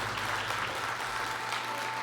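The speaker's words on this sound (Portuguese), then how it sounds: "Você pode aplaudir ao Senhor Jesus?" Congregation applauding during an evangelical church service, a continuous crowd of clapping hands close and loud, with a low musical hum beneath.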